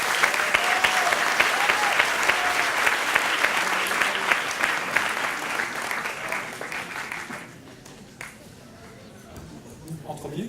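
Sustained audience applause welcoming a university president at a research showcase evening, thick and steady for several seconds before thinning out into sparse claps and quiet.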